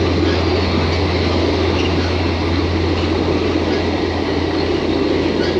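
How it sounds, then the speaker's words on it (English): Via Rail passenger train 75 rolls past Bayview Junction with a loud, steady rumble of wheels and engine drone that holds level throughout, close and continuous. "Okay, I barely got this via train"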